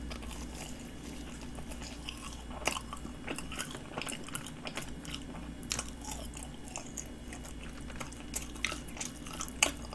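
Bread with a buttercream filling and no red bean paste being bitten and chewed up close, with soft crunchy bites and wet mouth sounds repeating steadily through a quiet background.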